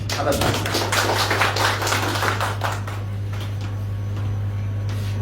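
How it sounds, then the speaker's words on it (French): Audience applause at a Russia Day event in the Sahel, a burst of clapping across the first few seconds that thins out, over a steady low electrical hum. "On l'applaudit."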